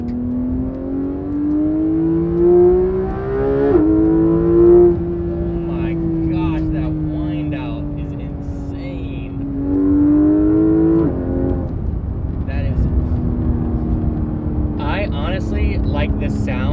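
Porsche supercar with a Fabspeed exhaust revving and shifting, engine tone rising and falling in long sweeps with snappy downshifts, loud and close, with brief voices over the engine at points.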